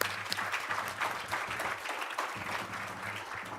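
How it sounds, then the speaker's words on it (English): An audience at a university hackathon in Tshwane applauds the hackers, giving a continuous, fairly soft round of clapping that carries on evenly throughout. "And give them the round of applause."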